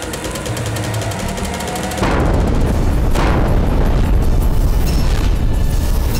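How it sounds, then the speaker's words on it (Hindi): A cannon fires in a historical Hindi TV drama, giving a sudden heavy boom with a rumbling tail, then a second blast about a second later, loud over a background score. "यह इस्माइल खान की तोप है"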